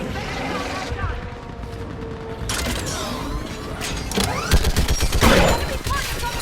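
Mounted gun firing during the fall of Thessia in Mass Effect 3, a busy battle mix of mechanical clanks and rapid gunfire bursts that grows louder in the last seconds, with shouted voices at times.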